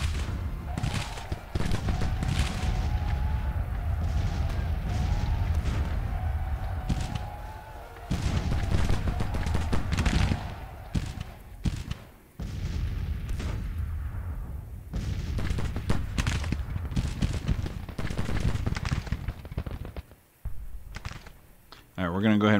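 Cannon and musket fire in the Civil War strategy game Grand Tactician, booming in repeated bursts under steady crackling volleys, loud and close, with someone talking over much of the battle.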